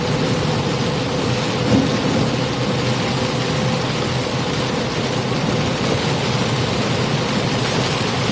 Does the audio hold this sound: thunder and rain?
yes